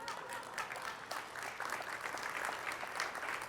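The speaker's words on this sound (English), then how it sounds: "I feel like at some point we should have had a clap." Steady audience applause at a tech conference session on building autonomous agents in Copilot Studio, a dense wash of clapping at moderate distance that holds evenly throughout.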